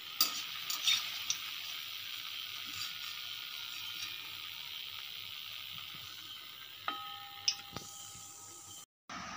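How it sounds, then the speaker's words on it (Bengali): Palm fritters (taler bora) deep-fry in oil with a faint, even sizzle. Occasional light taps and clinks come from stirring, and a brief ringing tone is heard near the end. "এইভাবে লাল লাল করে ভেজে তুলে নিতে হবে, কিন্তু বারবার কিন্তু নাড়তে হবে"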